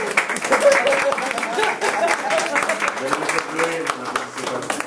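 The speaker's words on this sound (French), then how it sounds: "je vous suggère d'applaudir chaque fois que notre cuisinier rajoute un ingrédient" An audience claps for a cook during a cooking demonstration, quick scattered hand claps running throughout while people talk over them, with a voice becoming clearer toward the end.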